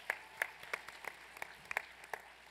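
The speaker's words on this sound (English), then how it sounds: "I will applaud that." Audience at a Shameless panel at Comic-Con 2012 gives a handful of faint, scattered claps, quiet and distant, a few sharp hand smacks spread over a couple of seconds.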